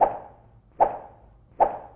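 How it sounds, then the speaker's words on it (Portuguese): Jump sound effect for a video game, made by swishing a stick through the air: three short, evenly spaced soft whooshy thuds, close and distinct with quiet gaps between. "Já o som de pular é um pedaço de pau batendo no ar."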